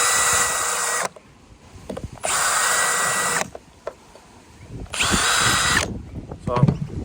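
A power drill marks holes in the roof of an LDV G10 van for roof bars, running in three bursts of roughly a second each, close and loud, with pauses and faint handling noise between them.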